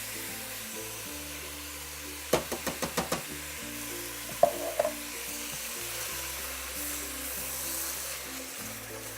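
Tomato goes into a hot pan with spices and sizzles steadily. A quick run of sharp taps and knocks cuts through the close frying hiss, which continues beneath a soft music bed.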